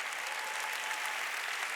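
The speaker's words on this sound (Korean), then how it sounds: "깨달은 사람만 박수 치라고" A church congregation claps together during a Sunday worship service, a dense, even burst of applause heard from a distance.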